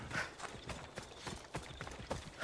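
Horse hooves clip-clop at a steady trot in Assassin's Creed Odyssey, a regular run of close, soft hoofbeats.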